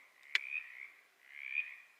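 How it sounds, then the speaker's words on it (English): Frogs calling at night beside the Appalachian Trail, two drawn-out buzzing croaks with a sharp click just before the first, fairly close and alone with no talk. "It's the frogs."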